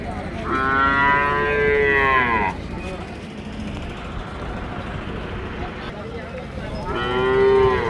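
A cow at a cattle market in Gadag moos loudly twice, one long low call near the start and another near the end, with background engine noise and faint talk between.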